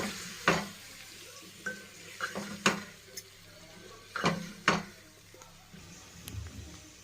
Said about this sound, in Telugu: మగ్గిపెట్టిన రొయ్యలు ఇప్పుడు ఇందులో వేసుకొని కలుపుకోవాలి.